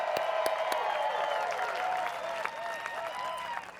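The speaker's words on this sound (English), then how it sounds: "Give Robert a big round of applause." Audience applause for a speaker at a seminar, steady clapping from a seated crowd, moderately distant and fading slightly toward the end.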